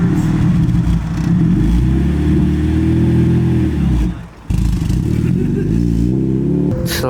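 Honda Civic Si, 8th generation, fitted with a Full Race exhaust, revving loudly and up close with rising and falling engine harmonics, a brief dip near the middle, then climbing again.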